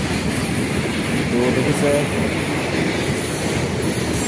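A freight train of oil tank wagons rolls past close by, making a loud, continuous rumble with wheel noise and a faint squeal, while a voice speaks briefly in the middle.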